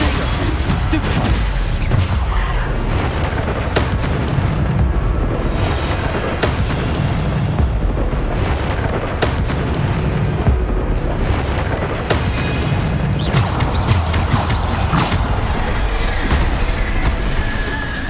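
Repeated Bombarda spell explosions in the video game Hogwarts Legacy, a rapid series of booming blasts and bursts throughout, with a voice shouting over them.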